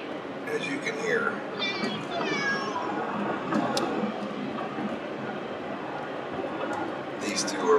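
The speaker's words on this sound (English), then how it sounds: "I have two very unhappy cats with me in the car." Cats meow repeatedly and plaintively, some cries rising into drawn-out wails, over a steady road rumble inside a moving vehicle.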